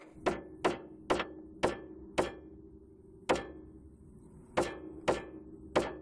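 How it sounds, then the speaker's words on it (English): Sharp metallic hammer taps on a Maserati GranSport ball joint dust cover, nine strikes in an uneven rhythm with a short pause midway, close and fairly loud over a low background hum. "I'm going to tap with the hammer."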